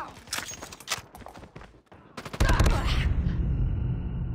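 Gunfire in a COD Mobile clan war match, rapid bursts of automatic shots in quick clusters followed by a louder, sustained rattle of fire close by.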